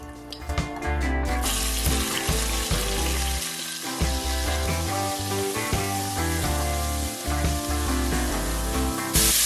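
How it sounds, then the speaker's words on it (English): Fish dropped into a hot pan for Jamaican steamed cabbage, a loud hissing sizzle that flares suddenly and holds strong and close throughout, with a few clinks at the start. "The first thing I'm gonna do is start dropping in my fish"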